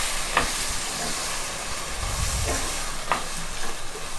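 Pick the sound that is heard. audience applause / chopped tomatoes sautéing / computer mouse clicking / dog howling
chopped tomatoes sautéing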